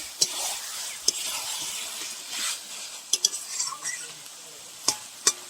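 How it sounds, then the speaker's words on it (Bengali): Goat meat fried with spices while being stirred in a pan, giving a steady hissing sizzle punctuated by a few sharp, close clinks of a spatula against the metal. "মাংসটা ভালো করে মশলার সঙ্গে ভালো করে নেড়ে ভালো করে কষিয়ে নেব।"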